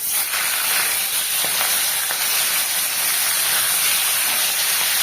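Oil going into a hot pan gives a steady, loud sizzling hiss that fills the whole moment, with a few faint clicks underneath.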